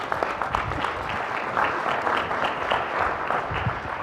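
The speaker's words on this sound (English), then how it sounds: "Let's give Rob a round of applause" Audience applause for a speaker at a business talk on marketing new products, steady dense clapping that holds at an even level throughout.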